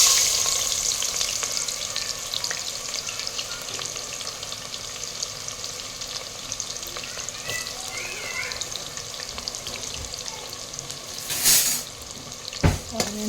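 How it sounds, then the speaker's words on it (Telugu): Onions frying in hot oil in a pan on a stove, a steady broadband sizzle running throughout with a few louder bursts near the end, no voices. "ఆనియన్స్ మంచిగా ఫ్రై అవ్వాలి."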